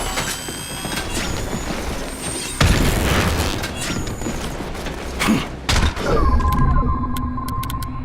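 A grenade bursts in The Bureau: XCOM Declassified, a sudden loud boom partway through over ongoing game combat ambience, with mechanical clanks and a second burst of noise shortly after.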